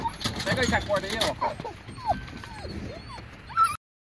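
Boar-hunting dogs whimpering and yipping near a parked vehicle, a string of high whines rising and falling over background rustle, with brief voices early on.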